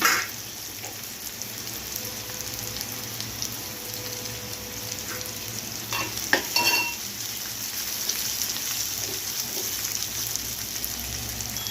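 Curry leaves crackle and sizzle in hot oil as the tempering for a yellow potato bhaji, a dense steady hiss with a few sharper pops midway, close and without talk.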